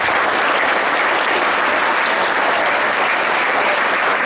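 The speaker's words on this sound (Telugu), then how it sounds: "గట్టిగా చప్పట్లు" An audience at a school science fair claps loudly and steadily, a dense unbroken wash of applause from many hands, close and uniform for the whole stretch.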